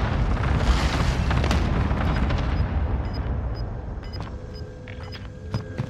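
Cluster strike in Call of Duty Warzone: loud rolling booms and rumbling blasts fill the first seconds, then fade into scattered debris and faint high pings.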